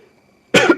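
A single sharp, close cough bursts out of near silence during a drawing session, loud and brief.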